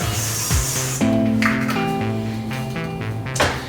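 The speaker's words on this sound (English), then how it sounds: "I'm gonna grab some cooking spray. I'm gonna lube it up." Short hissing bursts of cooking spray sound close by, mixed with faint clinks and rustling around a bowl.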